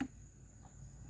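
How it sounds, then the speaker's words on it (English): Crickets chirp outdoors in a steady, continuous high trill that stays faint and even throughout, with no voices. "Because I hear crickets."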